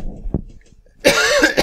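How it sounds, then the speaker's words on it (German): A single sharp cough from an adult man, loud and close, with quiet room sound before it. "Immer gerade husten."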